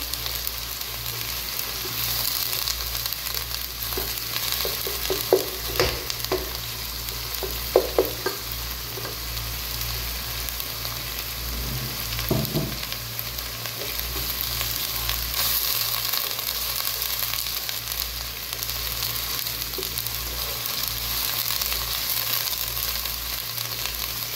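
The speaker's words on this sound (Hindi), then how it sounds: "इसको फ्राई करेंगे जब तक इसके अंदर खुशबू आ जाए इस अदरक लहसुन की।" Chopped ginger and garlic fry in a pan for Lahori chana masala. A continuous low sizzle runs throughout, broken by scattered stirring clatters, with no talking.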